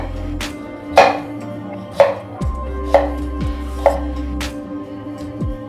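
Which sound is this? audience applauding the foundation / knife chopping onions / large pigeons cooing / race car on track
knife chopping onions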